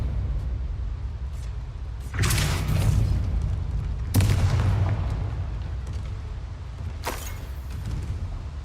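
A Repulso spell cast in Hogwarts Legacy gives loud, booming blast impacts, with two heavy bursts close together followed by a fainter third hit, set over steady low game rumble.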